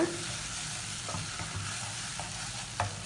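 Tomatoes are mashed in a frying pan over a steady sizzle, with a few soft scraping and tapping strokes of a spoon.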